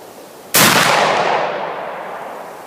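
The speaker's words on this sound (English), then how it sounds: "And shot number two is away." A single loud shot from a Thompson Center Hawken muzzleloading rifle, a sharp blast followed by a long rolling echo that fades over about two seconds outdoors.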